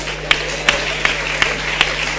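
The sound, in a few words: audience applause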